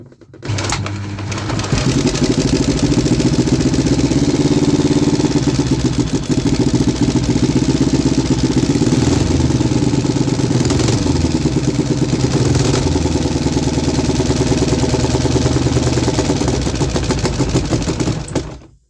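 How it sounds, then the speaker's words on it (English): A 3D printed inline two-cylinder four-stroke engine starts and revs, running loud and steady throughout with a rattling, buzzy mechanical clatter and rising and falling revs, alone without talk. "let's try to start the engine and actually rev it."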